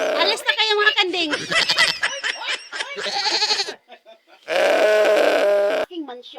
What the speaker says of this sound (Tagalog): Alis na kayo mga kanding.